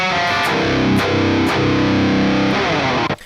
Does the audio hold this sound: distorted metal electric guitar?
yes